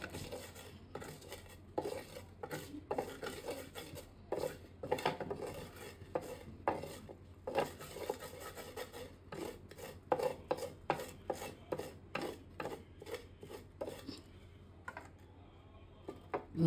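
Roasted eggplant crushed by hand for bharta, producing a long run of quick, irregular tapping and clicking strokes against a bowl or plate, close and moderately quiet, easing off near the end, with no voices.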